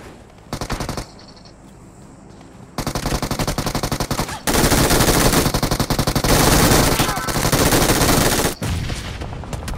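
Automatic gunfire in the mobile battle royale PUBG Mobile, loud sustained bursts of rapid shots that build and continue almost without pause, with a brief quieter stretch at the start.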